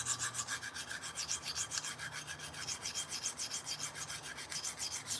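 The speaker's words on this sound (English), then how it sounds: "So do the majority of the reset on this really extra coarse diamonds plate." Knife blade stroked back and forth on an extra coarse diamond sharpening plate, a steady rhythmic rasping scrape repeating about twice per second, close and alone with no talk.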